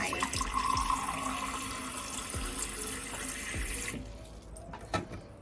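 Tap water runs and pours steadily into a container for a salinity test with a TDS meter, a broadband rushing splash lasting about four seconds before cutting off, followed by a few faint clicks and handling knocks.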